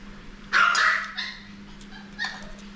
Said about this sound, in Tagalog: Sa tahol.